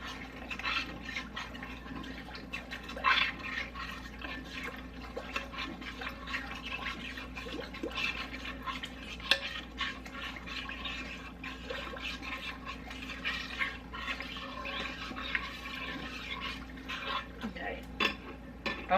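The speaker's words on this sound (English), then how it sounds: "I'm going to go ahead and stir it around a little bit just to get the sauce stirred up." A spoon clinks and scrapes while stirring sauce in a pot, soft irregular knocks and swishes over a low background hum, fairly faint and close, with a voice speaking now and then.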